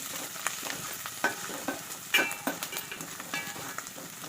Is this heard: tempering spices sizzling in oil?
yes